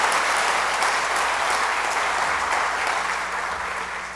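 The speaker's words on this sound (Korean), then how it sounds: "우리 남자들만 큰 박수로 축하하겠습니다" Men of a church congregation clap together in sustained, dense applause that fills the hall steadily and fades slightly toward the end.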